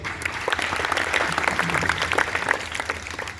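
Children applauding a performer at a school patriotic song event, a dense steady clapping from a nearby crowd that carries on throughout.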